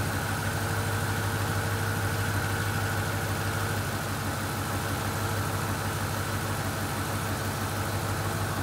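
A Ford F-150 engine idles with its A/C compressor running, a steady, dense mechanical drone with a constant low hum, unchanging and close throughout, with no voices.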